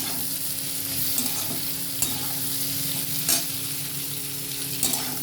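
Okra curry with ground cumin gets stirred in a frying pan, giving a loud continuous sizzle with periodic scraping strokes of the spoon against the pan.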